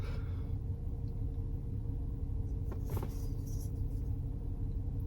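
Steady low engine and road rumble fills the cabin of a moving car, a constant dense drone with no pauses and no talk.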